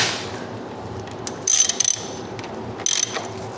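A hand ratchet tightening a bolt during an oil change on a car raised on a 4-post lift, heard as two short bursts of quick metallic clicking over a low background hum.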